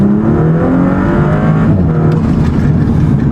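A tuned Audi S4 running E85 accelerates hard, its engine note climbing steadily with turbo whoosh layered over a loud, continuous close-up drone.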